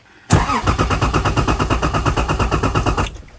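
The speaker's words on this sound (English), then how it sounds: "We have an issue with the Is300. Again, it is not starting. It's just cranking." A Lexus IS300 engine cranks steadily without catching, the starter turning it over in a rapid, even rhythm for about three seconds, loud and close, then cutting off.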